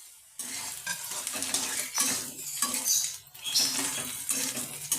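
Chopped ginger and garlic tumble into a pan of frying onions and chillies in mustard oil, setting off a loud, steady sizzle with repeated stirring and utensil scrapes against the metal pan, close up and with no voices.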